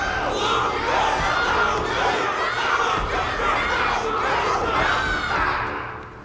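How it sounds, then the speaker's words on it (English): A large crowd in the Honkai Star Rail game roars and cheers for a fighter after a battle, a dense continuous wall of shouting voices, loud and steady throughout. "Can't you hear? Everyone's cheering for you, Luca!"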